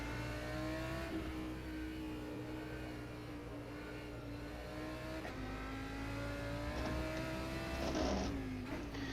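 An Audi GT3 race car in the sim racing game rFactor 2 at the Nürburgring, heard from the cockpit: a steady, fairly quiet engine drone that rises and falls with gear changes and revs, with a sharper downshift burst near the end.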